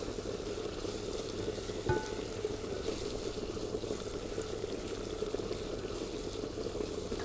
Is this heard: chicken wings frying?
yes